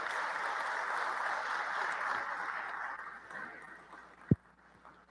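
An audience at a ceremony launching a state development program applauds its state deputies, a broad steady clapping that fades out over a few seconds, followed by a single sharp knock and quiet room noise.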